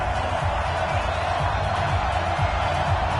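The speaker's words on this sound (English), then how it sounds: "this crowd is pumped up as their Redskins get set to match up with the Chicago Bears" Stadium crowd in the Madden football video game, gathered for a Redskins game against the Chicago Bears, gives a steady, dense roar of cheering that holds at an even level throughout, with no single voice standing out.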